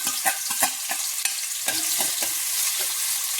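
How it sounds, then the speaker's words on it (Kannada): Finely chopped large onion frying in hot oil, a close, continuous crackling sizzle with quick repeated scrapes of a spatula stirring through it. "ಸಣ್ಣದಾಗಿ ಹೆಚ್ಚಿರೋ ಅಂಥ ಒಂದು ದೊಡ್ಡ ಸೈಜ್ ಈರುಳ್ಳಿ ಹಾಕ್ಕೊಳ್ತಾ ಇದ್ದೀನಿ"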